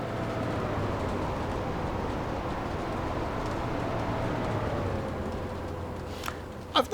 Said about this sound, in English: As HST coming through.